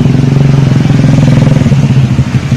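A motorcycle fitted with a loud racing exhaust revs hard and close, its throbbing engine pulsing in a fast, rough rhythm that dips slightly near the end.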